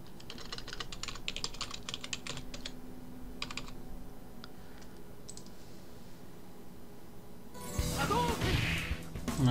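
Someone types a password on a computer keyboard in quick clusters of clicks with short pauses, followed near the end by a louder burst of game sound.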